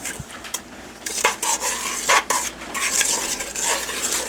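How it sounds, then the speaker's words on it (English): A metal spoon scrapes and clinks around a metal bowl of frosting mix with cream of tartar in uneven, repeated strokes, fairly close, with no talking. "those of you who don't care for the sound of the metal on the metal"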